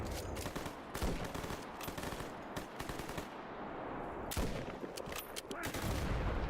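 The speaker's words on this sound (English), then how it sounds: "Can you, like, not shoot the RPG, like, right in front of me?" Dense video-game gunfire in a raid on a nuclear plant, rapid automatic bursts with sharp close blasts, including an RPG launched right beside the player, the firing continuous throughout with a heavy near impact partway.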